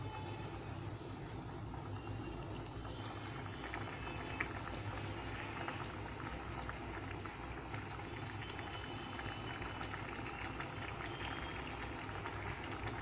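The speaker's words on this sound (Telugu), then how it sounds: "చూడండి ఎలా ఉడుకుతుందో." Dosakaya mutton curry bubbles in a pot, giving a continuous, fairly quiet simmering hiss and burble that stays even throughout.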